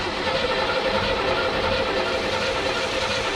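A steady, loud engine roar and rumble runs without a break as the engine turns over and runs during its first start.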